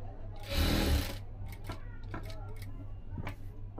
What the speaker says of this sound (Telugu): ఇప్పుడు చూడండి, నేను ఇక్కడ ఎట్లా కుడుతున్నాను